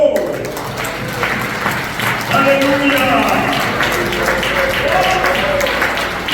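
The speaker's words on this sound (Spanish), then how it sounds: "un aplauso a Dios" A church congregation claps together for God, a moderate wave of applause mixed with voices and shouts of praise, one voice calling out briefly over it.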